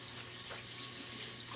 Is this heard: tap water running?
yes